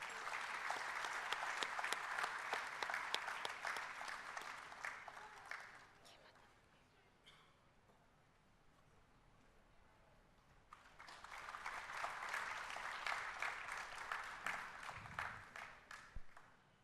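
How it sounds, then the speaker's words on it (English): Audience applause at a freshers induction ceremony at IIT Kharagpur, two bursts of dense clapping separated by a quiet gap of a few seconds, moderately distant in a large hall. "give a big round of applause."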